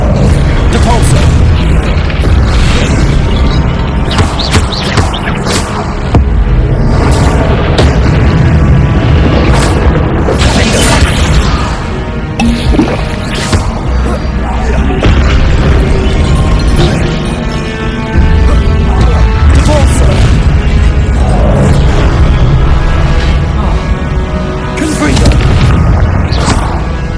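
Confringo spell blasts in Hogwarts Legacy, a dense, loud, continuous barrage of booming explosions and crashes, with brief voice in the background.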